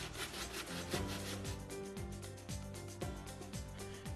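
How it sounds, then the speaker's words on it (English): Glossy plastic being sanded by hand with coarse 80-grit sandpaper, giving fast, rhythmic rasping strokes that run steadily throughout over a tonal musical background. "Remove the gloss by sanding with 80 grit sandpaper."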